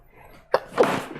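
A single sneeze, close and sudden, with a sharp intake followed by a burst of breath.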